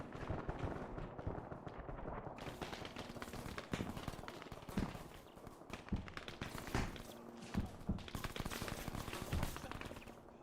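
Rapid bursts of distant gunfire crackle and pop repeatedly against a noisy background, sounding like battle effects from a game.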